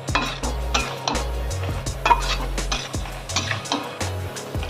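A pot of ghonto curry with soaked chickpeas stirred vigorously, metal spoon scraping and clanking against the pot in repeated uneven strokes, close and fairly loud.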